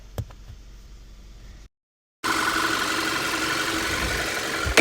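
A VW Tiguan diesel engine idles after a misfire repair, a low, fairly quiet steady hum, briefly cut to silence, then returning as a louder idle.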